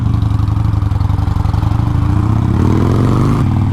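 A Harley-Davidson Sportster motorcycle engine pulls close and loud with a steady low throbbing rumble, its pitch climbing as it accelerates through the gears on a city street.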